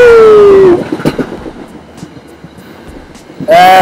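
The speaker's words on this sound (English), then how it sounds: "I think we got a train coming." A train passes by on nearby tracks, roaring loudly for under a second with a tonal horn-like whine, fading to rattling clatter, then surging loudly again at the end.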